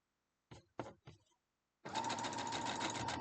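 A sewing machine stitches pieces of a quilt block, a steady fast mechanical whir starting after a few soft handling bumps and running continuously to the end, close and clear.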